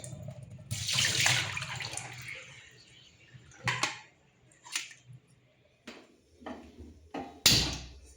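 Tap water runs over peeled mushrooms being rinsed in a kitchen sink, a steady stream early on followed by scattered clinks and short splashes as the handling continues.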